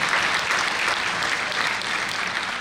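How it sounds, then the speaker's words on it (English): A school winter orchestra concert audience applauds for morning-solo students, a full, even wash of clapping that holds steady and fairly loud throughout. "Let's give them a round of applause."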